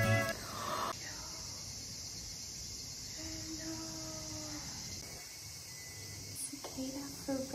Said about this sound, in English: And you can really hear the cicadas right now.